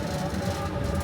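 A Zero Force family roller coaster, Flight School, rolls into an amusement park station with a steady, loud rumbling roar of wheels on track, continuous and close for the brief moment.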